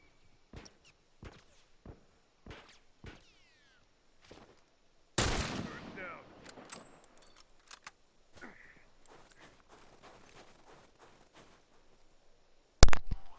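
Rifle fire in The Last of Us, a video game: a string of sharp, separate shots at an irregular pace, then one loud close blast with a long decaying tail and one more sudden report at the end, with scattered footsteps and clatter between.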